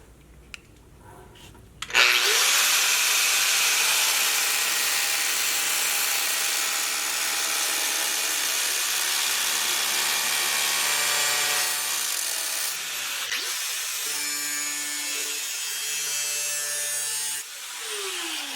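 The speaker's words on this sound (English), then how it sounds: "I'm going to take the trusty angle grinder and start grinding" An angle grinder grinds rust off the body of a Jeep Wrangler YJ. It starts abruptly after a brief quiet lead-in, then holds a loud, steady, harsh abrasive whine close by that shifts slightly in pitch midway and again near the end, with no talking.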